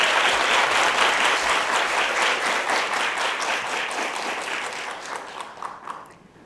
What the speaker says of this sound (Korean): 여러분의 큰 박수로 심사위원님이십니다.